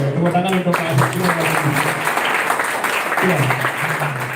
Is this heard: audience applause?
yes